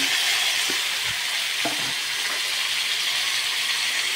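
Beef, broccoli and mushrooms stir-fry in a hot pan, a steady, close hissing sizzle with a few soft clicks of the utensil stirring through it.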